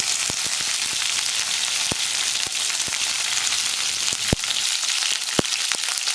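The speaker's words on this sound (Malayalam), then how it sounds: "കടുക് പൊട്ടി കഴിയുമ്പോൾ കുറച്ച് കറിവേപ്പില ചേർക്കുക." Curry leaves hit hot coconut oil with popped mustard seeds for an egg curry, giving a close, steady sizzle broken by sharp scattered pops and crackles, with no talking.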